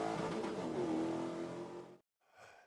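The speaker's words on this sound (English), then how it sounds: "Spec Corvettes over the start-finish line. Good-looking start there. Field screaming off down towards turn number 1." Spec Corvette race cars roar loudly off the start-finish line, revving up and pulling away together toward turn one, then a short gap and one more car blasting past.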